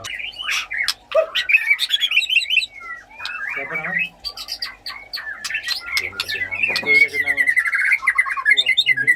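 Magpie-robins chirp and tweet in quick, varied bursts with some squawks, fairly close, while people talk intermittently over them.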